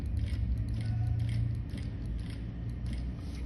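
A JK F4 single needle lockstitch sewing machine runs steadily, giving a continuous near mechanical whir with a rapid repeating stitch rhythm and no voices.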